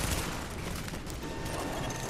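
Heavy gunfire in the video game The Division, a dense continuous barrage of overlapping shots and bursts that fills the whole moment, loud and unbroken, with no voices.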